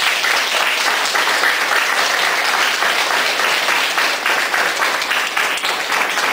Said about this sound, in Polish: Brawa tak, żeby cały świat słyszał.